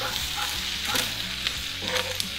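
Maultaschen, bacon, onions, peppers and garlic frying in a pan give a steady, dense sizzle, close and constant, with a few faint stirring scrapes and no voices.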